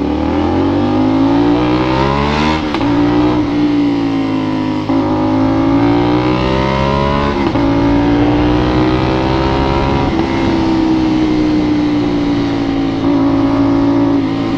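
A Yamaha 450SR motorcycle engine with an SC Project exhaust canister runs loud and steady, holding a continuous throaty drone with small rises and dips in revs throughout, close to the listener and with no voices.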